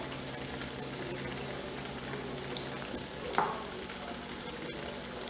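Brinjal (eggplant) pakoras in batter frying in hot oil, a steady broadband sizzle running throughout with one brief louder crackle partway through, close and alone without talk.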